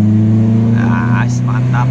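Modified car exhaust with a homemade valvetronic valve set to racing mode, giving a loud, steady low rumble with strong engine harmonics throughout, while people talk over it.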